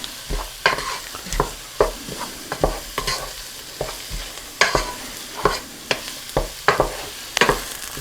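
Flour roux for New England clam chowder cooks in a pot, with a soft bubbling sizzle and regular scraping, knocking strokes of a spoon stirring it, moderately quiet and with no talk.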